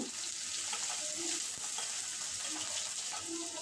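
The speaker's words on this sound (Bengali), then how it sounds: "তেল গরম করে দিয়ে দেব গ্রেট করা আদা, কুচনো কাঁচা লঙ্কা, এবার দিয়ে দেব কেটে রাখা আলু" Grated ginger, chopped green chilli and cut potato fry in hot white vegetable oil, giving a steady close sizzle and hiss with a few soft stirring clicks, no voices.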